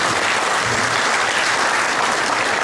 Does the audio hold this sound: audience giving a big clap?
yes